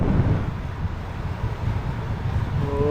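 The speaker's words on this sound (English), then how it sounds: "Like, look how windy it is." Steady low rumbling wind buffets the microphone throughout, a continuous gusty roar with no voices.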